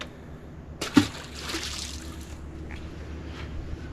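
A fish caught on a lure is released back into the water, making a single close splash followed by faint trickling and dripping.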